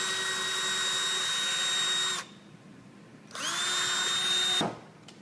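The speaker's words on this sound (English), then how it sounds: "Continue on, we'll drill a few more holes." Power drill boring holes into a ceiling for a star field installation, two sustained whining bursts with a pause between, close and loud, with no talk.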